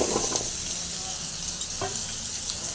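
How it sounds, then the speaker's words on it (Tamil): Pumpkin pieces frying in a pan give off a steady, close sizzle, with a few faint stirring scrapes and no talking. "இப்போ நல்லா ஃப்ரை பண்ணிக்கலாம் நல்லா ஃப்ரை ஆகிடும்"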